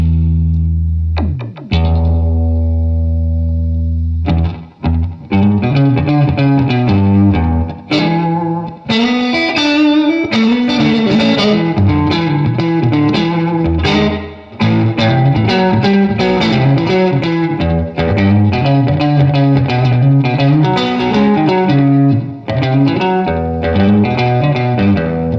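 Klempt Echolette E51 tape echo on its fast repeat setting, a continuous distorted, effected instrumental passage with dense quick repeats smearing the notes, loud and steady throughout with a few brief dips.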